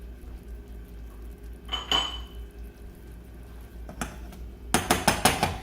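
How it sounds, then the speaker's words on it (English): Cooked pasta goes back into a pan with a little oil, with a low kitchen hum, a brief scrape and a clunk, then a quick run of close metallic clatters from the pan and utensil. "I'm gonna add in a little oil. And then I'm gonna add the pasta back in."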